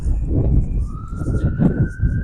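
An ambulance siren passes near a city-maintained cemetery in Fort Smith, its rising, sustained wail carrying faintly in the distance beneath someone talking nearby.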